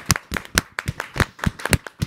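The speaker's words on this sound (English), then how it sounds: "Round of applause, everybody, for Charlotte." A crowd applauding, with dense, sharp broadband claps in a rapid, steady rhythm close by, no voices over it.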